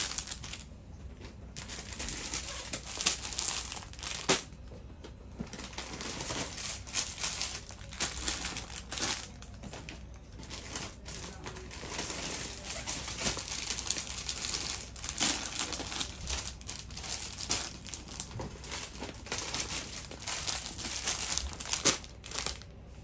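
Plastic packaging crinkles and rustles continuously as a pure cotton readymade dress with gotta work is unpacked, close and fairly loud, with sharp crackles throughout and no talking.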